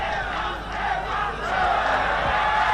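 Large crowd of around five thousand at a Nepal versus UAE cricket match in Nepal, a steady roar of many voices with shouts and cheers rising and falling throughout, filling the stadium at a consistently loud level.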